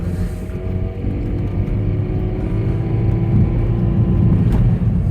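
A 2004 Toyota Prius hybrid accelerating, heard from inside the car as a steady low rumble and whir of drivetrain and road noise that swells slightly as speed builds, with no talking.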